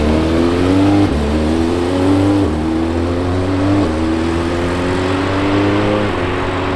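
A Porsche GT3 RS test car's engine revs loud and close, repeatedly climbing in pitch through the gears with brief dips at each shift, steady and unbroken throughout.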